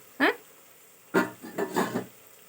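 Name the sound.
curry vegetables added to hot pan, frying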